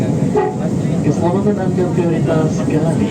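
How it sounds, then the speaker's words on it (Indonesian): A KRL commuter train on the Jogja–Solo line pulls into Lempuyangan station with a steady rumble and clatter, while a safety announcement plays loudly over it. "Kereta akan berusaha masuk di jalur 2 stasiun Lampiangan"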